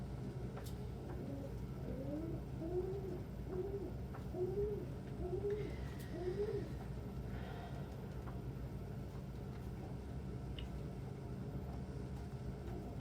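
Domestic pigeons coo in a rhythmic series of soft, repeated calls, fairly close, over a steady low background hum, fading out after about seven seconds.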